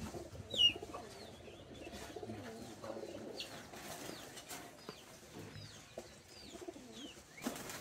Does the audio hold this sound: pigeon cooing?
yes